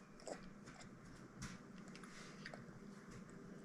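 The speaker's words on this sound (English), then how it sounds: "You chewing." A child eating Easter leftovers chews softly close to the microphone, giving faint, irregular wet bites and squishes against quiet room noise.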